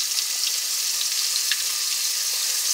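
Mountain oysters (hog fries) fry in hot oil with a steady, dense sizzle and scattered small pops, loud and close with no break and no talking.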